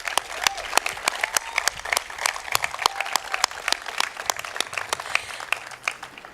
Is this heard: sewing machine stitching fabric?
no